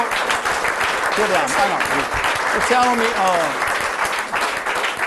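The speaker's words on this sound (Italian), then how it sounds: "Bravi, un applauso anche a loro." An audience at a Paralympic sports event applauds steadily throughout, with a voice speaking over the clapping.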